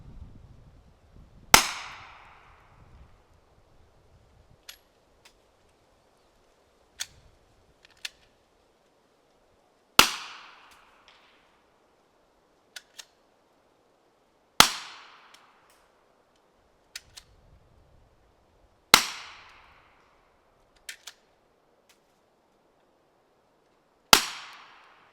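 Suppressed pistol shots fired with 165-grain ammunition through a second suppressor: six sharp, well-spaced reports with short decaying tails, separated by quiet gaps with faint clicks and light handling noise.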